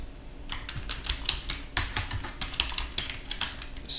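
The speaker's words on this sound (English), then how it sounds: "I'm going to drop to the command line, and I'm going to type sudo space" Keys clatter on a computer keyboard as a command is typed, a quick irregular run of close, crisp taps and a few heavier strokes, with no voice.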